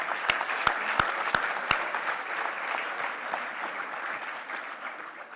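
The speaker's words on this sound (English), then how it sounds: "if we could have a round of applause before we move over to the next category" An audience at an awards ceremony claps steadily, with a few sharp handclaps near the mic at the start and a gradual fade toward the end.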